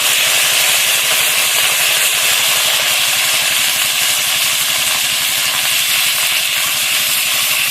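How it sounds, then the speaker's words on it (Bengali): Crab frying in a wok of hot oil, a dense continuous sizzle and hiss filling the whole stretch, close and loud with no talk. "এবার আমি ক্যাংড়াটা ভালোভাবে ভেজে নেবো, ভালোভাবে ভেজে তুলে নেবো"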